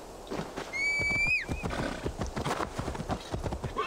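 A horse in Assassin's Creed Valhalla gallops with a steady clip-clop of hooves after a loud neigh near the start, close and continuous beneath the game's ambience.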